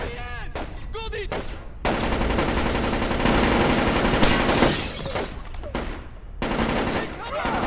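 Rapid automatic gunfire fills a firefight in the stealth video game Splinter Cell Chaos Theory, dense and loud throughout with brief gaps, while voices shout over the shooting.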